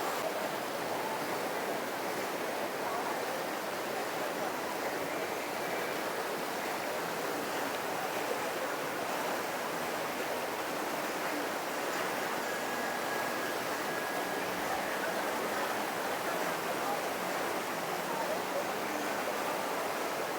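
Bo Sai waterfall at Tha Takiap, Chachoengsao, Thailand: a continuous, even rush of falling water fills the air with steady broadband noise for the whole stretch.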